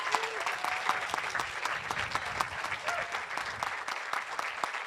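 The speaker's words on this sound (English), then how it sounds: "Let's give a round of applause for all students." A student awards ceremony audience in 2024 applauds with steady, even clapping that keeps a constant level through the whole stretch, with a faint crowd murmur underneath.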